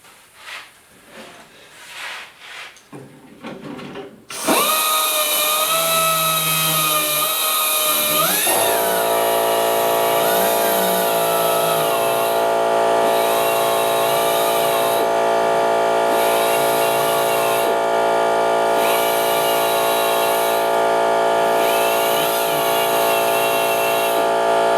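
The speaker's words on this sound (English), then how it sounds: "Now we're just going to use the die grinder here," A high-pitched die grinder whines steadily and loudly while carving into a steering wheel on a 1956 Mercury pickup, after some quieter handling noises at the start, with slight pitch shifts as it bites.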